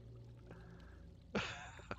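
A character in World of Warcraft Classic drinks conjured level 65 mage water, a short faint liquid pour and gulping sound rising over quiet game ambience near the end.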